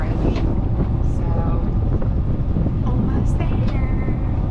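Strong, cold wind buffets the microphone aboard a sailboat travelling along the Florida coast, a loud continuous roar with water and hull noise mixed in and occasional faint voices underneath.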